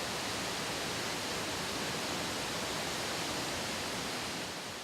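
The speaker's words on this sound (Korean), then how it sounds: "대만에서 가장 크다는 스펀 폭포." Shifen Waterfall in Taiwan, 40 m wide and 12 m high, pours a constant, broad roar of falling water that stays loud and unbroken, with no voices over it.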